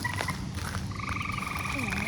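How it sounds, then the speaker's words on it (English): A frog croaks in a backyard garden, a series of rhythmic, raspy calls at moderate distance over steady outdoor ambience, with no talking. "I don't know if that's a frog or what."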